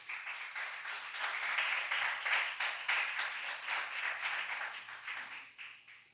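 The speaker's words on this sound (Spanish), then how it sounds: "Denle otro fuerte aplauso a Dios." A church congregation at a Spanish-language service applauds God in a sustained burst of clapping, moderately distant and even, rising in the middle and gradually fading out.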